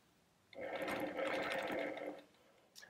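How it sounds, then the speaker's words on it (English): A sewing machine runs a short, steady burst of about a second and a half, locking the stitches on a quilt block, close and clear against a quiet room. "I'm going to go ahead and lock my stitches"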